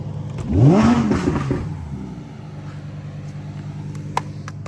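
A Koenigsegg Jesko revs hard in a rising, swelling roar that drops back to a steady, throbbing idle, loud and close, with a few faint clicks near the end.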